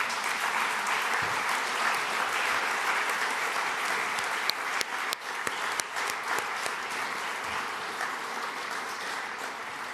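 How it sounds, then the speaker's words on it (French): Sustained audience applause at the closing session of the 18th Francophonie Summit in Djerba, Tunisia, a large hall filled with dense, even clapping throughout, with a few sharper claps standing out near the middle. "Ça mérite quelques applaudissements."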